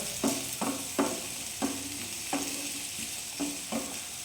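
Ginger and garlic fry gently in a pan for a fish curry, under a soft, steady sizzle, while a spoon stirs them with about seven evenly spaced scrapes. Fairly quiet, with no voices.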